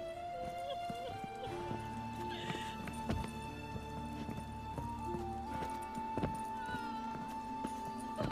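Clip-clop of a horse's hooves in The Witcher 3, with a whinny and steady hoofbeats over the game's music and ambience, close and clear.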